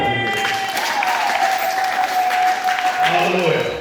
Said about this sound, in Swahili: Yesu makofi